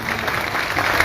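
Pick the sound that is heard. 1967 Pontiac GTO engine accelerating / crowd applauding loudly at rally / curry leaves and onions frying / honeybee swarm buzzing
crowd applauding loudly at rally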